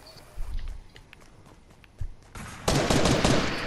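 Bursts of rapid gunfire from a game, scattered shots at first and then a dense, loud volley toward the end.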